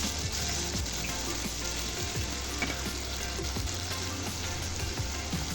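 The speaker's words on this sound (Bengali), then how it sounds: "পেঁয়াজগুলো আমি ব্রাউন করে ভেজে নেব।" Onions frying in a pan with garlic paste, onion paste and tomato ketchup, a loud, steady close sizzle and crackle throughout, with occasional stirring scrapes and no talk.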